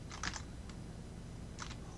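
Computer keyboard keys tapped in a short burst of several clicks, then one lone click and a final quick cluster, close and quiet over a low room hum while someone types a nested outline in Logseq.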